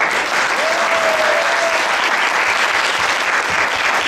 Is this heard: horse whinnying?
no